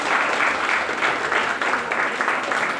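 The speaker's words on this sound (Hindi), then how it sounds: "आप लोग जोरदार तालियों के साथ सर का स्वागत करें" Audience at a university geography department farewell and felicitation ceremony gives steady, sustained applause welcoming a guest to the stage, dense clapping filling the hall without pause.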